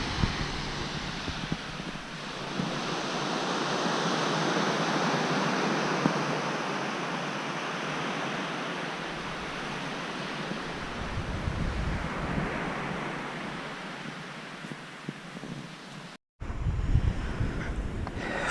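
Surf washing onto Richmond Beach in St. Vincent, a steady broadband rush with wind buffeting the microphone throughout and a sharp dropout near the end, no voices.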